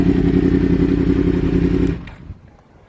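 A 2017 Yamaha R1 sportbike with an aftermarket Aero exhaust idles with a loud, steady rumble for about two seconds before the engine is switched off, leaving a short clunk and then near silence.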